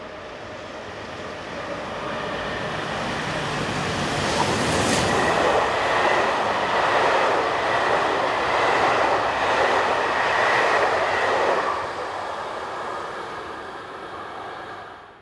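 An orange-liveried BB 26000 electric locomotive, number 26161, hauls the southbound Paris to Toulouse express past at speed, its rumble and rail clatter swelling loudly, holding, then fading away.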